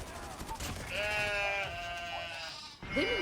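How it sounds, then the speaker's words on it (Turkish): A flock of sheep bleats in the shooter game Call of Duty Mobile, with several wavering, overlapping bleats that are fairly close and loud, set against background game noise. "koyun sürüsünün saldırısına uğradık şu anda"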